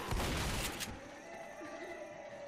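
A short, sharp burst of gunfire from the zombie shooter Left 4 Dead cracks out loudly for under a second, then fades into a quiet, hissing game ambience.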